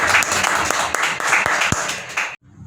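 A live audience at a romantic duets show claps steadily and loudly, a dense patter of many hands that cuts off abruptly near the end.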